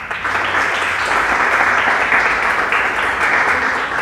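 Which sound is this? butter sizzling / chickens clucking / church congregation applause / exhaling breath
church congregation applause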